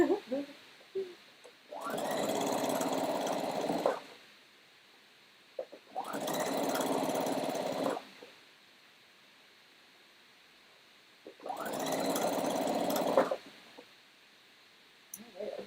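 A sewing machine runs in three steady bursts of about two seconds each, separated by quiet pauses, close and moderately loud.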